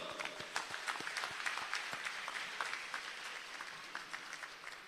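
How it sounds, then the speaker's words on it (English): Rally crowd at an Al-Jamaah provincial rally applauding: steady, moderately distant clapping with scattered sharper claps, sustained throughout at a fairly even level. "Round of applause."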